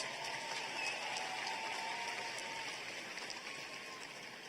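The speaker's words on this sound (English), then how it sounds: "Let's give yourselves a round of applause." Graduating high school class at a 2023 graduation ceremony applauding themselves, a faint, distant wash of many hands clapping in a large space, continuous and slowly fading.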